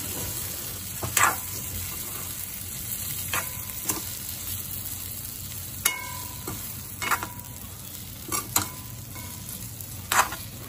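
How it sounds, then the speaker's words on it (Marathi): Brinjals being stirred and sautéed in a kadhai for a green-chilli khar wanga, with a soft background sizzle broken by sharp scraping and clattering stirring strokes. "अशा प्रकारे 5 मिनिटांनंतर मी पुन्हा वांगी ही परतून घेतलेली आहेत"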